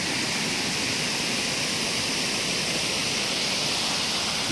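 Waterfall roaring as a steady, broad rush of falling water, loud and unbroken, with no voices over it.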